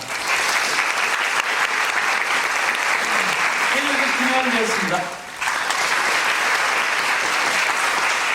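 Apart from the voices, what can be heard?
audience applause for the stage staff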